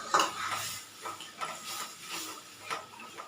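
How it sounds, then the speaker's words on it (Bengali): Urad dal goes into a pan after cumin powder, giving soft clinks, scrapes and stirring clatter at close range, with a faint sizzle underneath and a sharper knock at the start. "এবার দিয়ে দিচ্ছি বিউলির ডাল।"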